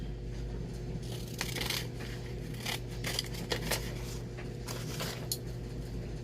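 Scissors snipping paper scripture strips cut out for a prayer gratitude journal, a series of soft, close cuts and paper rustles over a steady low hum, no talking.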